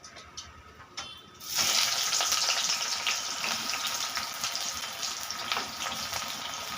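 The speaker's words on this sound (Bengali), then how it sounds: "কড়াতে আমি তেল দিয়ে গরম করে নিয়েছি। এর মধ্যে দিয়ে দেব আমি পেঁয়াজ" Chopped onion hitting hot oil in a wok, setting off a sudden loud, steady sizzle that starts after a quiet moment and carries on evenly to the end, with no talking.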